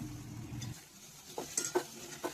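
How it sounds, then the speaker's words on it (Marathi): Sliced bitter gourd drops into hot oil with spices in a pan for a Marathi karela bhaji, giving a low sizzle followed by a few sharp stirring scrapes and clinks close by. "आता त्याच्यात आता कारले टाकून घ्यायचे"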